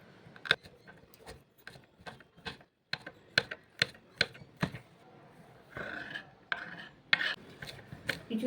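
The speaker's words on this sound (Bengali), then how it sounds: "দুটো কাঁচা লঙ্কা কুচি করে নিচ্ছি" Knife finely chopping green chillies on a board, a steady run of crisp, close taps in quick rhythm with a few short pauses.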